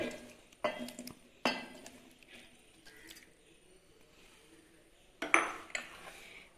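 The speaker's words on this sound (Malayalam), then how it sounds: "ആദ്യം ഇതിലേക്ക് തക്കാളിയാണ് ഇട്ട് കൊടുക്കുന്നത് ഒരു മീഡിയം സൈസ് മൂന്ന് തക്കാളി എടുത്തിട്ടുണ്ട്" Three medium tomatoes go into a pot while cooking egg butter masala, giving a few close, sharp clattering knocks against the metal with quieter rustling between them and no talking.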